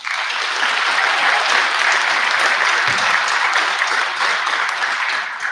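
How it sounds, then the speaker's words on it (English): A seated audience at a corrections officers academy graduation for the Yakima County Department of Corrections gives a steady, dense round of applause, many hands clapping continuously at even loudness throughout. "Give her a round of applause."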